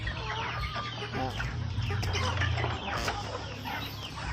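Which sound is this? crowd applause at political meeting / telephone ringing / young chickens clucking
young chickens clucking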